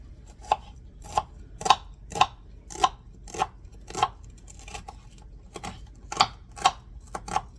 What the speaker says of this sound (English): Next, I'm gonna be chopping up some onions for the meatballs.